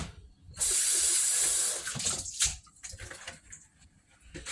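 Tap water gushes strongly onto salad leaves being rinsed in a sink for about a second, then breaks into irregular splashing and dripping as the leaves are handled under the flow.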